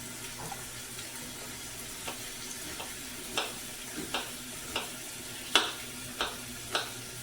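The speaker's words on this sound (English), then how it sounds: "I'm just going to slightly brown these bones just for a little added flavor in the soup" Beef bones and onions brown quietly in a pan, a faint steady sizzle broken by about a dozen soft taps and scrapes of a utensil against the pan, spaced at irregular intervals.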